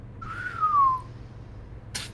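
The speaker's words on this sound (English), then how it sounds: "Ring whistles." Video game character whistles a single clear, falling note lasting under a second, fairly soft over a low steady background hum, followed by a brief noise burst.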